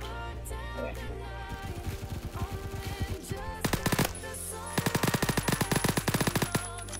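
Automatic gunfire in the Phantom Forces shooter game: several rapid bursts of sharp shots, loud and close, the later bursts longer and denser.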